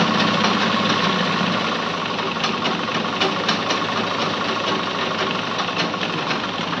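Sewing machine stitching a seam while altering a ready-made kurta, a steady, continuous mechanical whir at close range with no pauses and no voices.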